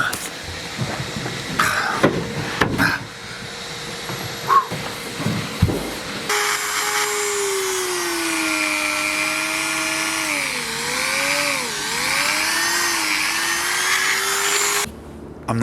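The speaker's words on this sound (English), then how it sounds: "I'm not sure the Dremel tool is the one." A Dremel rotary tool working a teak deck gives a loud, sustained high-pitched whine with wavering pitch as the load changes, after several seconds of intermittent clatter and brief starts.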